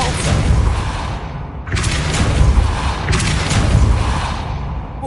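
Force spell blasts from the Hogwarts Legacy video game: a dense, loud game soundscape with booming thuds and two sharp whooshing bursts partway through, no voices on top.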